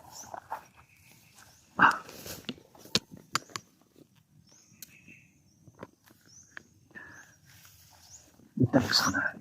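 Dogs bark outdoors at night, sharp separate yelps scattered irregularly with a louder burst near the end, amid crickets, footsteps and talking voices.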